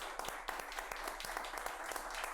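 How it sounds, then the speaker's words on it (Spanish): Audience at a journalism talk gives fairly quiet, steady applause, with individual claps standing out near the front. "por favor, un fuerte aplauso."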